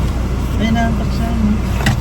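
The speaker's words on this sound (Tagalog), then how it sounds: "so kasama natin si Quindy dito sa sasakyan." Car interior on the road with a steady engine and road rumble, a whine rising and falling, and people talking throughout.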